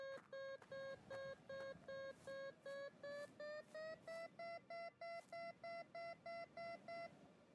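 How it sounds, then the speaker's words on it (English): Inside the video game Kathy Rain, a metal detector gives a clean run of rapid, evenly spaced electronic beeps whose pitch rises step by step, then holds steady at a higher tone, with no talk. "I'll go grab the metal detector off the bike."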